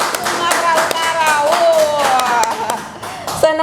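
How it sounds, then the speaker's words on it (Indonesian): Applause for the winning SMP Negeri 1 Padang school team at a KSMO competition, heard as brisk hand clapping under a host's voice, with music in the background. "Tepuk tangan dong untuk SMP Negeri 1 Padang Sumatera Utara."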